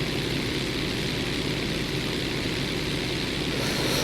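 A propeller aircraft engine in the video game GTA 5 drones loudly at full throttle, a dense, constant roar that holds steady for the whole stretch without any voices.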